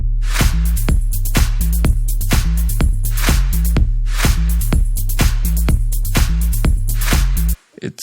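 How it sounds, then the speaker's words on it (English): Slightly distorted future house sub bass patch built in Massive pulses in a steady, bouncy rhythm with gritty upper harmonics over a heavy low end, cutting off sharply near the end. "It sounds a bit more distorted,"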